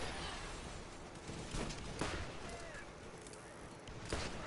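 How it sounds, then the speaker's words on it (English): Rockets fire at the player in Borderlands, several sharp blasts and bursts cutting through a steady rumbling battle bed, with a louder hit near the end. "I'm getting rockets thrown at me"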